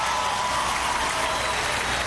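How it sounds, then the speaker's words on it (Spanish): Loud, continuous applause from an audience at a live televised program held at the Liceo Andrés Bello school, a thick unbroken roar of clapping with no pauses. "Un aplauso."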